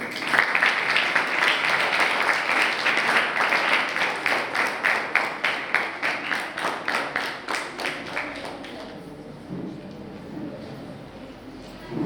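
Sustained applause from a crowd at an inauguration ceremony for a group song competition in Wai, India, steady at first and then thinning into distinct claps before fading out near the end.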